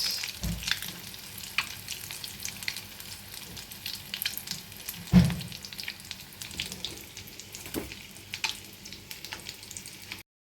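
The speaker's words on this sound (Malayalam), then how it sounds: "ഇനി ബാക്കിയും കൂടെ നമുക്കൊന്ന് ഫ്രൈ ചെയ്തെടുക്കാം." Potato egg lollipops fry in hot oil for an iftar snack, a continuous moderate sizzle and crackle with an occasional louder pop or clatter and no speech.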